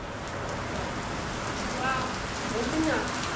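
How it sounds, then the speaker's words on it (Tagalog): Heavy typhoon rain pours steadily and close, a dense continuous roar of drops hitting surfaces, with faint voices murmuring briefly underneath. "lakas ng ulan talaga, grabe."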